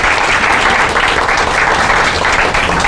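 A conference audience at a faith and mental health event gives a loud, dense round of applause, with steady clapping throughout.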